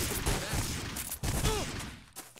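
Gunfire in the 50 Cent: Bulletproof video game, rapid overlapping bursts of shots at fairly close range, continuing throughout with some faint voices beneath.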